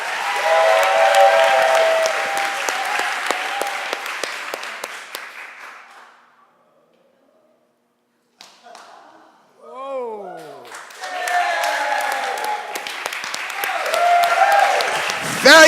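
Audience applause and cheering at a Coney Island sideshow in Brooklyn: a loud crowd roar that fades out to silence, then a brief whistling, warbling sound before the clapping swells back up strongly.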